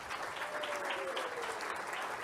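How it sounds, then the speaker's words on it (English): Faint, steady applause from a convention audience at a travel industry keynote, a soft continuous patter of clapping heard from a distance for a couple of seconds. "Give yourself a round of applause"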